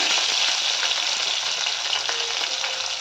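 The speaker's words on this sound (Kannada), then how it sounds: "ಬೀನ್ಸು ಕ್ಯಾರೆಟು ಇದನ್ನು ಹಾಕಿ ಫ್ರೈ ಮಾಡ್ಕೊಳ್ತೀನಿ" Beans, carrot, onion and capsicum sizzle steadily in oil in a pan, a close, continuous hiss with faint stirring clicks and no voices.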